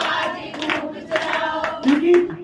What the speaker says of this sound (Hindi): सब लोग स्माइल के साथ ताली ताली ताली ताली ताली बजाओ